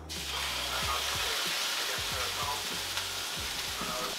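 A steak hits a lightly oiled frying pan and sizzles loudly and steadily up close, with faint low bumps from the pan moving underneath.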